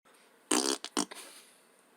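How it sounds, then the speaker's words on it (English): A short, loud, raspy burst followed by a second brief gurgling pulse, close to the microphone, then quiet room tone. "Pardon me when I burp."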